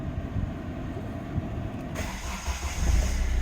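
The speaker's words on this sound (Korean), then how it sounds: "먼저 엔진 소리하고 에어컨 성능 한번 보여드리겠습니다" A Kia Pride engine with about 111,000 km, started cold, idles with a steady low rumble and faint mechanical hum, growing slightly louder toward the end, with no voices present.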